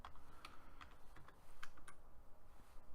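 Typing on a computer keyboard, a run of quick, light key clicks in an irregular rhythm, close and fairly quiet, with no voices.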